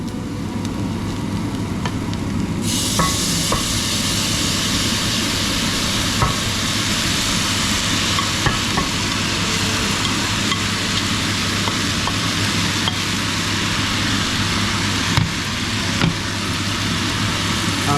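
Browned beef goes back into a pot of Caribbean curry base with allspice, and a loud, steady sizzle runs throughout with scraping stir strokes; it brightens and intensifies after the first few seconds.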